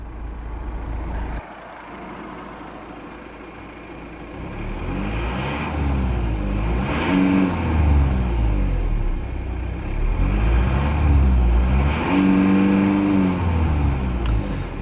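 A 2014 Volvo XC60 2.0 D4 R-Design diesel engine idles, then revs up twice in rising and falling sweeps toward its limiter, a loud close rumble with a low, steady idle between revs.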